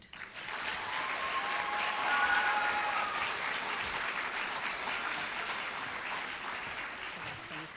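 Audience applause for a school group at an elementary school celebration, a sustained wash of clapping from a crowd, steady and moderately distant across the whole stretch.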